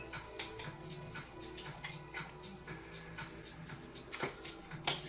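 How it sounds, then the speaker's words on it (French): A paintbrush is rinsed in water during abstract painting and collage work, giving faint, steady sloshing and swishing with small splashy flicks throughout. "Alors, je vais rincer mon pinceau, je le laisse."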